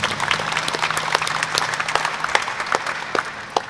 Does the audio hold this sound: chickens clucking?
no